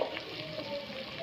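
Chopped onions sizzle in hot oil in a pan for gongura chicken, a steady close hiss holding even for the whole stretch with no talking over it.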